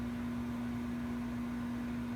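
A microwave oven hums steadily and quietly while cooking a potato, a constant low electrical drone with a soft fan-like hiss and no other sounds.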